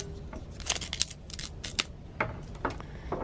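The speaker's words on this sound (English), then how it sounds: "you're going to see the plastic peel off." A VEVOR wire stripping machine bites into copper wire and peels off its plastic insulation with sharp, snappy clicks and cuts in uneven bursts, close and distinct.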